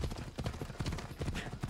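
Horse hooves clip-clop in a quick, steady gallop rhythm in the video game Assassin's Creed Odyssey, fairly quiet and alone for under two seconds.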